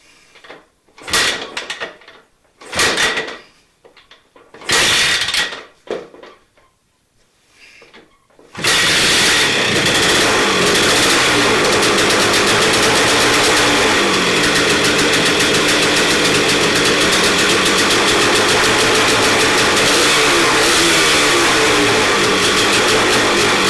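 Yamaha DT250C motorcycle engine running on choke, a few short bursts of cranking and knocking before it catches and settles into a loud, continuous, raspy idle that holds steady.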